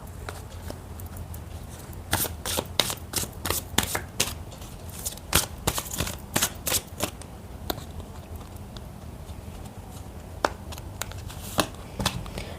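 Oracle cards are shuffled close up, a run of quick crisp riffling snaps and slaps in irregular bursts over about twelve seconds, with no talk.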